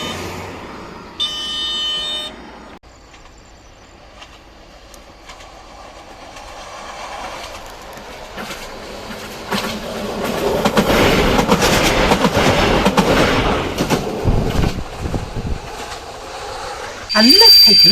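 A train rumbles through a Bulgarian railway yard. It starts with faint clatter, builds to loud clickety-clack and wheel noise with squeals and a tonal buzz, then ends in a sharp, loud burst. A voice speaks early on.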